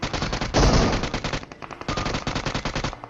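Rapid automatic gunfire from PUBG Mobile on the Erangel map, loud and close, firing in fast repeated bursts with a heavier blast near the start, with no talk over it.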